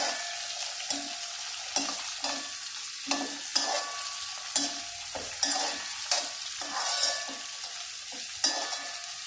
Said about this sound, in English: And saute well.